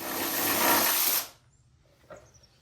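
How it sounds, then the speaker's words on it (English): A power tool loosens oil pan bolts on a small-block Chevy engine in one loud whirring burst of just over a second, then cuts off into quiet with a faint metallic clink. "I gotta turn loose the oil pan."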